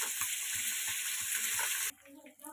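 Fish fries in a pan of hot oil with a steady, dense sizzle, then cuts off abruptly near the end as the pan goes quiet apart from faint clinks.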